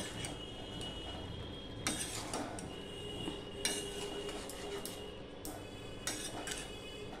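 A spoon stirring vegetables in a cooking pot for a vegetarian mixed-vegetable curry, with faint, irregular metallic clinks and scrapes over a low background hum.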